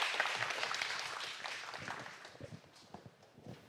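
Faint applause from an audience at a Korean government research meeting, welcoming a ministry official to the podium; scattered claps fade out over a few seconds.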